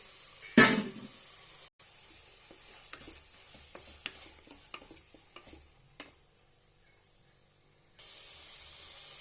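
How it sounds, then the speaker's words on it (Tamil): Sprouted green gram tipped into a hot frying pan lands with a sharp, loud burst of sizzling, followed by lighter scraping and stirring clicks as the oil settles to a quieter hiss. "நல்லா வதங்கிட்டு இப்போ நான் முளைக்கட்டி வச்சிருக்க பயிரை கொட்டுறேன்."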